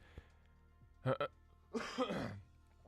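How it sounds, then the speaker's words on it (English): A man clears his throat while recording a flight-sim podcast: a short doubled burst near the start, then a longer, rougher rasping clearance, close to the microphone and alone without speech. "clearing my throat here"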